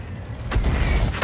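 Artillery shells strike during a World of Tanks battle, making two heavy booms about three-quarters of a second apart. Both land over a constant low engine rumble, and the second blast is louder and closer.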